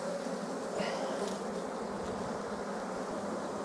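Honeybees buzzing around a lifted hive frame, a dense, continuous drone close by with no speech over it.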